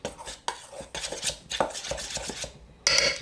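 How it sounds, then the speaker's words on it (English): A utensil stirs a turmeric mixture in a bowl, giving repeated scraping and clinking strokes with short pauses, close and moderately loud, with a brighter clatter at the end. "let's give us a stir here."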